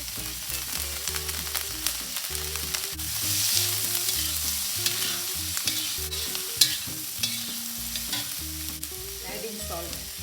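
Onions and curry leaves frying in a pan of oil, a continuous close sizzle with stirring scrapes, under steady tonal background music.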